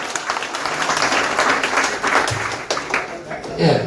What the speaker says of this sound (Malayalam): നിങ്ങൾക്ക് വേണ്ടി നല്ലൊരു ക്ലാപ്പ് അടിക്കാം